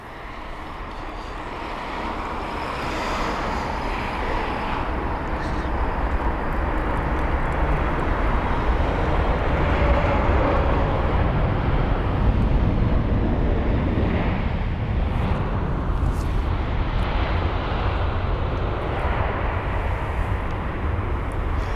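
A Boeing 777 arriving on runway 27 right at London Heathrow sends a loud, broad jet roar that builds and stays strong as it passes near, mixed with some wind buffeting on the microphone.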